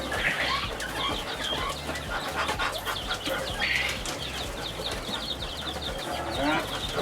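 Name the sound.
Brahma chickens clucking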